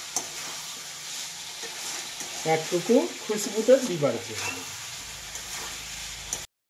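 Chicken pieces frying in a pan with meat masala, a steady soft sizzle with stirring scrapes running throughout, while someone talks over it.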